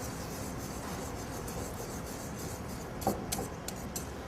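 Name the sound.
whisking egg into bechamel sauce for moussaka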